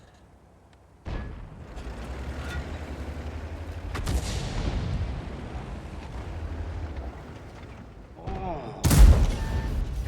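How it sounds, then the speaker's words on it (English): SPG artillery shells land in the video game World of Tanks, sharp booming blasts arriving a few seconds apart, each with a rumbling tail, the last one the loudest, and a brief exclamation from a voice. "the SPG is shooting at me"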